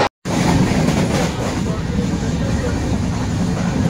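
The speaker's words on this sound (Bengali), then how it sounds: "10টা 13-তে মেচেদা থেকে কিন্তু আমাদের ট্রেন ছেড়ে দিল" A local train runs from Mecheda toward Tamluk with a loud, continuous rolling rumble and rattle, heard from inside the carriage after a brief cut at the start.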